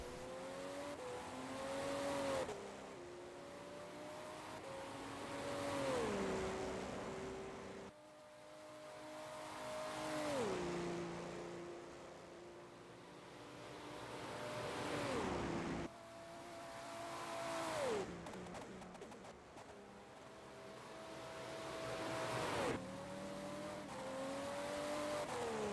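Race cars lapping the Circuit de la Sarthe at Le Mans in a racing video game, engines rising and falling through gear changes in repeating cycles, with downshifts under braking, loud and continuous.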